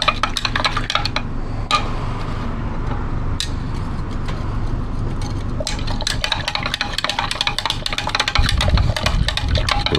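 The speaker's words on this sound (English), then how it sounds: "give it a stir" A gold solution precipitated with vitamin C powder is stirred in a glass vessel, making clinking, scraping and tapping sounds of a utensil against the container, close and fairly loud, without speech.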